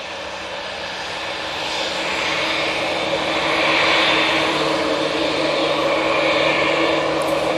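A Turkish Airlines jet arriving at Manchester Airport gives a steady, broad engine roar that swells toward the middle and stays strong and fairly close throughout, with no voices.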